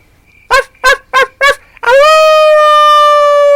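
A dog gives four short, loud yelps close by, then breaks into one long, steady, sustained howl.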